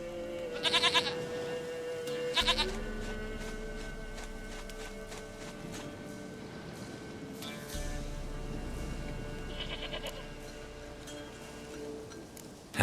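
Goat in The Witcher 3 bleats in short, close bursts spaced across the stretch, over low ambient hum and faint footsteps.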